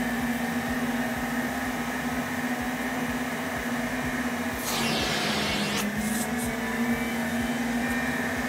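A household vacuum cleaner held against the lips gives a steady, loud motor drone throughout, with a brief surge of sharper airflow hiss midway, and no voices over it.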